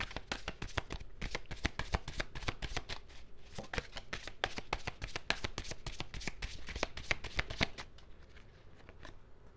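Tarot cards are shuffled by hand in rapid, crisp riffling bursts, close and clear, continuing steadily before tapering into softer handling near the end.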